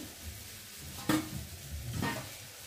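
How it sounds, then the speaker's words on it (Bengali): Leafy greens stirred in a kadai for a sour curry, heard as two quick scraping strokes about a second apart over a low, quiet background sizzle, with no voices. "চলো আমি এখন শাকটাকে নাড়িয়ে দেবো।"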